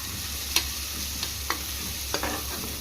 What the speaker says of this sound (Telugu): ఆనియన్స్ వేసుకొని ఆనియన్స్ కొంచెం మగ్గే వరకు ఫ్రై చేసుకుందాం